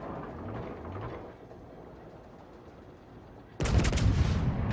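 A battleship's main guns fire a salvo in World of Warships, with a sudden loud booming crack that hangs as sustained rumble after quieter game ambience and mechanical clatter.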